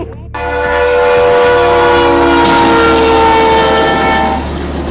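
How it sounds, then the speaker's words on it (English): An Amtrak train sounds its horn in a loud, sustained blast over heavy rail rumble and clatter just before slamming into a car stuck on the tracks in northern Greenville County, the horn dominating from the first moments to the end. "Greer police dash camera video of an Amtrak train slamming into a car stuck on railroad tracks"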